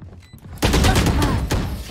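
Gunfire from the Valorant tournament round, with a loud burst of rapid shots from about the midpoint onward over quieter earlier activity, then a second crack near the end.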